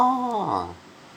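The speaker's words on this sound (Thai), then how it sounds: "ผมก็จะมีแมว นะครับ ผมเลี้ยงแมวนะครับ" A pet cat gives a single short meow whose pitch slides downward, close and fairly clear, followed by quiet.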